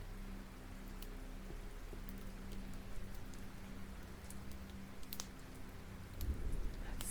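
Soft, steady rain hisses in the background of the cozy video game The Librarian, set in an arcane library, with a low constant hum and a few faint clicks over it.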